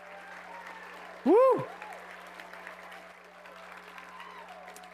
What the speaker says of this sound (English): let's give these amazing ultimate rock stars one more enormous round of applause